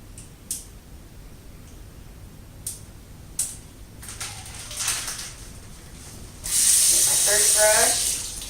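Water from a tap gushes loudly into a sink as hands are wetted, starting abruptly after several light clicks and handling knocks and running steadily for about two seconds nearby.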